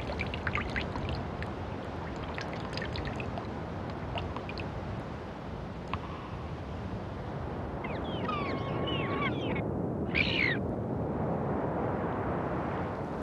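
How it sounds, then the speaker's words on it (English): Arctic meltwater trickles and drips in a steady wash of watery sound, with brief clearer splashes and gurgles near the end, moderately faint and without any voices. "Dripping water measures the fleeting season, the sound of summer ticking away."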